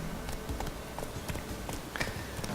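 Horse hooves clip-clopping in Witcher 3, the mount a black stallion, heard as a loose run of soft irregular thuds over a low steady game ambience, moderately close.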